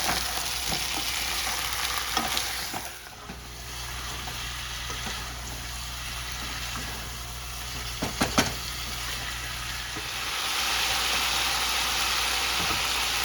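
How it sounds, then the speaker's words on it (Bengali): Spiced, masala-coated chicken frying in a pan with onions, giving a continuous dense sizzle that dips briefly and swells again, with a few sharp clinks of a utensil against the pan and no talking. "চিকেনটাকে যে মশলা মাখিয়ে রেখেছি এটাকে এখন আমি ভালো করে এটার মধ্যে একটু ভেজে নেবো"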